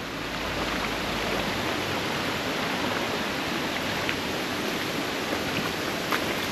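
Water pours down from a hillside beside a long roadside stretch, a steady broad rushing wash like a stream or small waterfall, close and continuous throughout with no voices.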